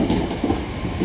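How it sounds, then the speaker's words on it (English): Double Class 323 electric multiple unit train arriving at Deansgate station in Manchester on an Airport service, a loud, continuous rumble of wheels on rail with rhythmic clatter, close by and with no voices. "just arriving in behind me is another double Class 323"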